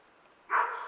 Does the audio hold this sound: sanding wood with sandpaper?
no